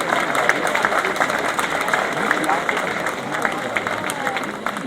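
Crowd applause at the inauguration of the Antica Fiera di San Gregorio 2026, an outdoor fair opening; steady, dense clapping continues throughout, with voices murmuring underneath.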